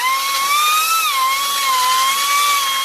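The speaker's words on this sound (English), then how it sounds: "I'm going to hone it with a sander and make it bigger so it slides down on that shaft." Sander honing out the inside of a bearing to clearance it for a shaft during a differential gear install on a 2002 GMC Sierra, a steady high-pitched whine holding close and loud with a brief dip in pitch.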